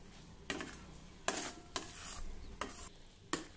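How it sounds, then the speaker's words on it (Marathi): Coconut barfi mixture with milk powder and sugar being stirred in a pan over low heat, a handful of distinct scraping strokes at an irregular rhythm over a soft steady background, close by with no talking. "आता मंद आचेवर वडीचं मिश्रण आपल्याला सतत परतत राहायचं आहे"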